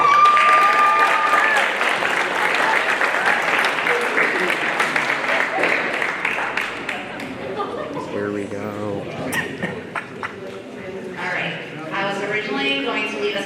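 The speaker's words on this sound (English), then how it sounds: "crowd cheers." A crowd applauds and cheers loudly and continuously at a hall of fame ceremony indoors, the clapping thinning toward the end as a voice begins speaking over it.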